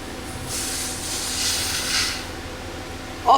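Nitrogen gas escaping from a KTM motorcycle rear shock through a needle hole, a steady close hiss that swells and fades over a few seconds before a short bump at the end.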